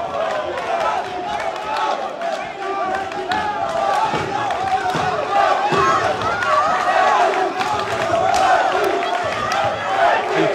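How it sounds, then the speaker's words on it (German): A boxing crowd cheers wildly in a packed hall at a Bundesliga boxing bout, a dense, loud and sustained roar of many voices with shouting swells throughout, while a commentator talks over it. "Zuschauer flippen hier aus."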